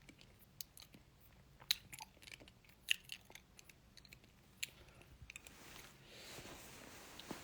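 Someone eats candy close to the microphone, making faint, scattered crunching and clicking chews over a quiet room background.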